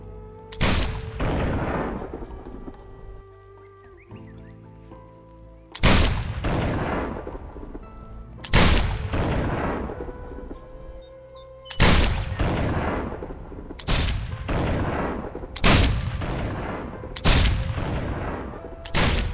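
A cannon fires at a gate in Risen 2, sending out about seven loud, separate booms spaced a few seconds apart, each with a decaying rumble and quiet gaps between shots.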